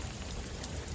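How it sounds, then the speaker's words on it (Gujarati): Heavy monsoon rain pours down at night under a shelter roof during a thunderstorm, a dense, loud, continuous hiss of drops drumming close by. "વરસાદ ફૂલ આવે છે ભાઈ"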